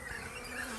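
Bees buzz inside a beehive kept by a Sydney bee club, a dense, steady hum filling the brief moment with no break.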